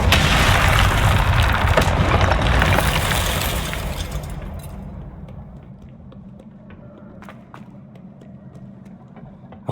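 A loud booming spell blast with shattering debris from Hogwarts Legacy, roaring at full strength for about four seconds, then decaying into a low rumble with scattered faint clinks and crackles.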